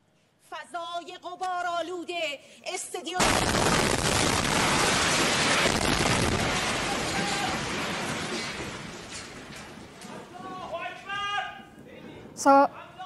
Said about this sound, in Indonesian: Suara ledakan kuat terdengar saat stasiun TV pemerintahan Iran menyiarkan secara langsung.